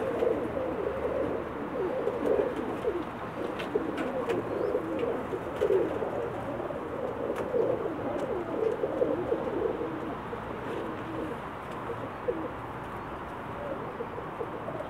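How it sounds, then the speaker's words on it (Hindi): Pakistani pigeons coo steadily in a dense, overlapping chorus, soft throaty calls repeating throughout with no talking. "शानदार कबूतर हैं माशाल्लाह।"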